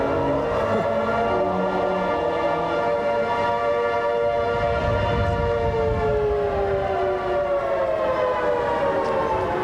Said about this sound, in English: The sirens signal that tornadoes are touching down in the area.